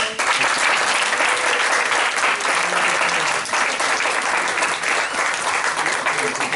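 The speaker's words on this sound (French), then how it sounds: "On va encore une fois les applaudir." Audience applauding a children's choir at a church Christmas celebration, loud dense clapping sustained throughout with some voices mixed in.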